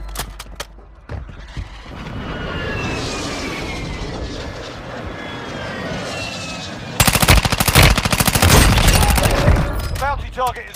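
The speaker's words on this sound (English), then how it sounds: "Friendly airstrike in the AO." Friendly airstrike in Warzone Mobile, a sustained roaring aircraft pass with whining tones, followed by a loud rapid burst of gunfire-like impacts; a voice speaks during it.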